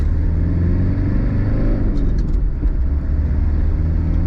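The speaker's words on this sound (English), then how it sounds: "do you hear the turbo? I hope you hear the turbo." A Mitsubishi Delica L400 van's engine pulls hard accelerating in second gear, its deep, steady rumble filling the cabin, with the turbocharger's faint high whine briefly rising above it midway.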